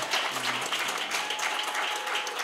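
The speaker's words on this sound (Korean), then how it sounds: "다시 한번 뜨거운 박수 부탁드리겠습니다" Warm applause rises from the audience at a school hymn and praise singing contest, a continuous patter of many hands clapping at moderate volume, with a brief low tone near the start.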